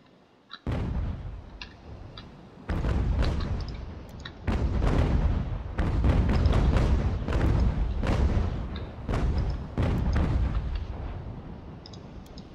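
Naval cannons fire from sailing warships in Ultimate General: American Revolution, booming in heavy irregular volleys. Clusters of blasts overlap and rumble for roughly twelve seconds, loud and close, with short gaps between the salvos.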